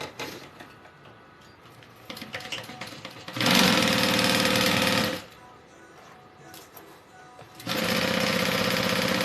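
A sewing machine stitches around a backpack in two loud, fast-running bursts of steady needle chatter, separated by quieter handling and fabric rustle, close to the microphone.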